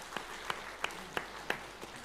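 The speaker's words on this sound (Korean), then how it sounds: "우리 박수로 한번 축복하겠습니다." A church congregation claps to bless an elder during a Korean Easter service, giving a handful of sparse, evenly spaced claps that sound faint and somewhat distant.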